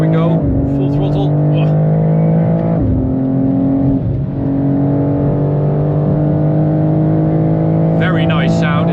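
A BMW M2 G87 accelerates at full throttle on the autobahn, its engine heard from inside as a loud, rising drone that drops briefly at each gear shift before climbing again.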